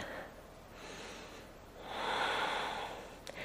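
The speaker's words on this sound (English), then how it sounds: "One big breath." Deep breathing during a yoga Pilates flow, a long audible inhale followed by a fuller, louder exhale through the mouth, close to the mic with no talking.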